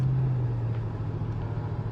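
A car merges onto the I-80 highway, giving a steady low engine and road rumble with a constant drone from inside the cabin, no talking.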